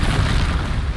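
The Bombarda blasting spell detonates in Hogwarts Legacy combat, a single loud, booming explosion with a deep, rumbling low end filling the whole brief moment.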